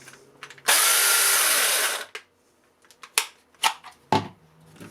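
A Banggood cordless chainsaw motor whirs loudly in a single burst of just over a second, then cuts off, leaving a few sharp clicks and knocks close by.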